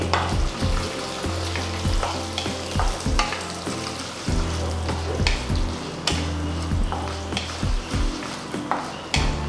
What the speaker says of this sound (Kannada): ಉದ್ದಿನಬೇಳೆ ಹಾಕಿದ್ಮೇಲೆ ಸ್ವಲ್ಪ mustard seeds, 1 spoon mustard seeds ತಗೊಂಡಿದ್ದೀನಿ, ಅದು ಆ್ಯಡ್ ಮಾಡಿದ್ದೀನಿ